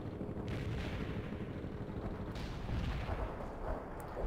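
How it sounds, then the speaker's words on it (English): Artillery fire from the World in Conflict: Soviet Assault video game, a continuous dense rumble of blasts and booms rolling through the whole stretch, loud and steady with no talk. "You have incoming rounds, Romanov."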